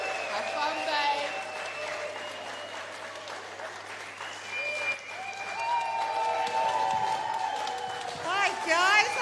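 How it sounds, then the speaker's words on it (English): Applause and cheering from a club audience fill the room, with music or other tonal sounds running over the clapping and a loud, busy crowd bed that rises and dips but never stops. "Get your hands clapping. Get your whooping and cheering."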